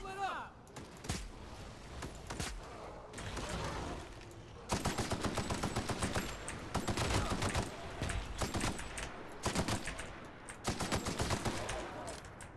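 Gunfire aimed at a behemoth in the video game The Outer Worlds rattles out in repeated rapid bursts, loud and dense, with short pauses between volleys.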